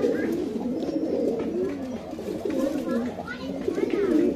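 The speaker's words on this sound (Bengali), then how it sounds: "এই যে একটা নর দেখেন, এটাকে আমরা বলি বর্ষা গলা কবুতর বা অনেকে চুলি গলা কবুতর বলে।" Pigeons cooing in a pigeon loft, including a male throated pigeon, with soft repeated low coos and some bird calls close by while a person talks over them.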